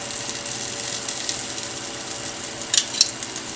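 Butter melting over very low heat in a pan, a faint even hiss throughout, with a couple of brief light metallic clicks near the end.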